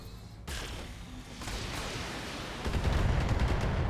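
A full weapons salvo from a mech in the BattleTech video game: dense, rumbling blasts that swell into a sustained roar and grow louder toward the end, with no talking.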